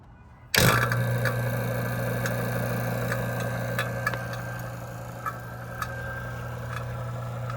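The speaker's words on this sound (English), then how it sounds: "So I'm gonna turn on the pump right now." A vacuum pump switches on abruptly while an AC system on a Lexus LX470 is being recharged, then runs as a steady, loud mechanical hum with faint ticking throughout.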